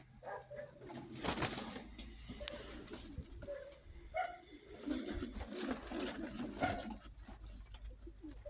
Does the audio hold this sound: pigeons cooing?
yes